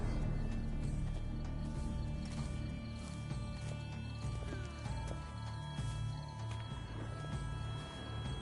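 Horse in The Witcher 3 game, with hooves clip-clopping and occasional snorts or whinnies, fairly faint under steady background ambience.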